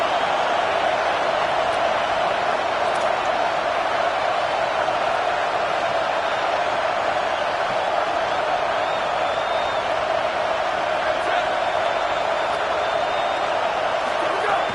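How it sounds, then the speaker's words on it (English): A stadium crowd roars in the NCAA 26 college football video game, a loud, unbroken wall of cheering noise that stays steady from start to finish. "Man, this crowd really affecting the football game."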